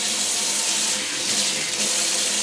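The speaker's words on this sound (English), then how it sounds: "So I put the hot water on." Hot water gushes steadily from a tap, a close, constant hissing stream with no talking.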